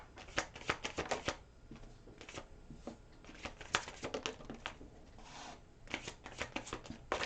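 Tarot cards are shuffled by hand close up in quick, irregular bursts of crisp riffling and slapping, with short pauses between rounds.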